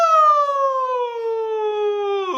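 A single voice imitates a siren, one long unbroken tone sliding smoothly from high to low over about two seconds, with a small catch near the end.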